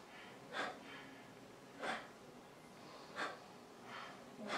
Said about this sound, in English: Maybe it's a little breath of fire